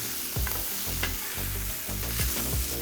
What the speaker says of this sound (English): we're gonna give all of this a good mix up